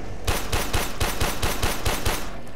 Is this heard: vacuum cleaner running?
no